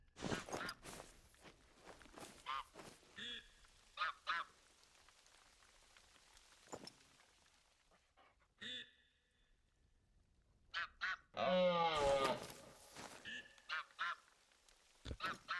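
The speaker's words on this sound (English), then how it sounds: "And it sounds like I'm hearing some sort of bird call from this direction." A honking bird call rings out in theHunter: Call of the Wild video game, several goose-like honks in brief clusters amid rain patter and crunching footsteps, loudest in a burst near the end.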